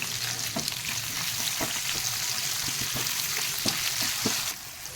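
Onions and green chillies sizzling in hot oil in a pan, a continuous loud frying hiss with occasional sharp pops and the scrape of a stirring spoon, close by and with no talk.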